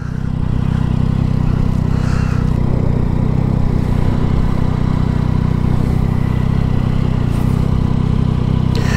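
A Yamaha Tracer 900 GT motorcycle rumbles steadily while riding, a loud constant engine drone mixed with wind roar and no talk.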